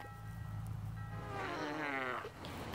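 A cat meows and yowls in a room, a drawn-out harmonic cry rising and wavering over a low steady hum, loud and close, with no talking.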